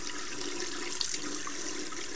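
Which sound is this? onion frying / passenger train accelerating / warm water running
warm water running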